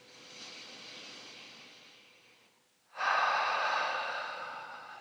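Audible breathing during a gentle yin yoga practice, a long soft exhale through the mouth, a brief pause, then a stronger, close, breathy exhale that slowly tapers, no words spoken.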